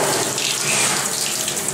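Tap water runs steadily into a basin while a dog is being washed, a close, continuous splashing hiss.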